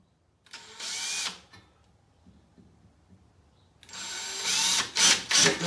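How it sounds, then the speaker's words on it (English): A power drill bores through a hollow tube on a Predator 9000 watt generator being converted to propane and natural gas: a brief high whine, a quiet pause, then a longer loud drilling burst that stutters near the end. "And we'll go ahead and drill these out now."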